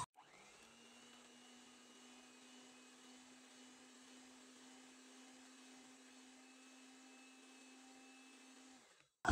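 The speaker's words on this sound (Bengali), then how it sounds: "আমি এটা আর অল্প কিছুক্ষণ বিট করে নেব।" An electric hand beater whirs steadily as it beats sugar and half a cup of oil together for a stovetop trutti frutti pound cake batter. The motor hum stays even and continuous for several seconds, then cuts off abruptly, with no talking.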